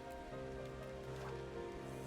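Video game rain during a thunderstorm falls as a steady, dense hiss of drops on surfaces, continuous and even throughout with a faint low rumble beneath and no talking.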